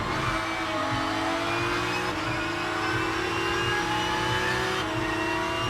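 Porsche Cup race car in rFactor 2 at Donington Park, engine droning steadily at mid revs with gear changes shifting the pitch, loud and continuous with no talk.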